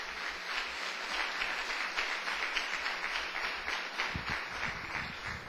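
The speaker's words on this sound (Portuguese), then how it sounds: "Dê uma salva de palmas para o Senhor Jesus." Congregation in a church applauding steadily, a dense wash of clapping held at an even level throughout, with a few low thumps near the end.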